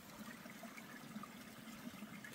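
A stream on the Appalachian Trail in North Carolina gives off a faint, steady babble of flowing water with no voices.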